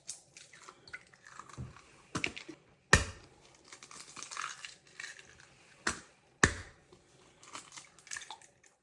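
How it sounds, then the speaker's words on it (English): Eggs cracked into a bowl while making a canned peach quick bread, several sharp close cracks and taps with soft wet crunching between them, no talk. "we're going to crack our eggs in first."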